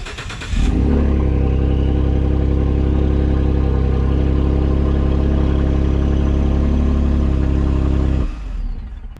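A Ford F-150 3.5 EcoBoost pickup engine cranks and catches, then settles into a steady, loud, low idle with the factory exhaust removed, running for several seconds before cutting off.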